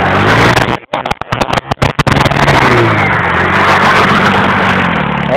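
A moped fitted with studded ice tires revs loudly nearby, its engine note cutting out in a choppy stutter of bursts before settling into a sustained high drone.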